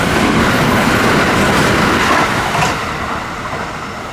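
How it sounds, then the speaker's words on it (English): The Kintetsu Hinotori luxury express train rushes past close by a small rural Japanese station, a loud roar of wheels and rushing air that fades slightly as it draws away. "That was the Hinotori. I know that one. It's like the Kintetsu's luxury, special luxury express."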